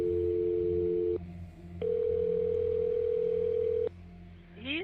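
Telephone tones on a line while calling a supervisor: a steady dial tone broken into segments of different pitch, with a short rising chirp at the end, loud and clear with no talking.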